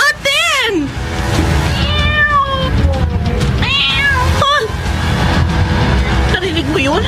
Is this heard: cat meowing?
yes